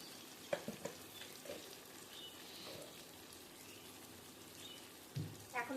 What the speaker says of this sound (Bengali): হালকা নেড়ে নেড়ে একটু ভেজে নিতে হবে